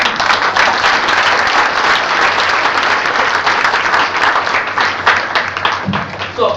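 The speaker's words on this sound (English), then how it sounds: "Can we have a round of applause?" A room full of audience members claps loudly and steadily at a talk, dense applause running throughout with a voice briefly audible near the end.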